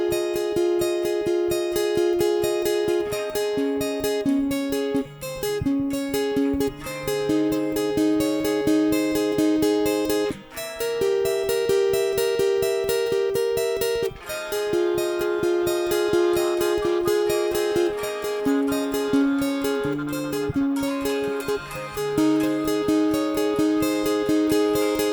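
An acoustic guitar plays a song alone, strummed chords repeating in a steady rhythm with changes every few seconds.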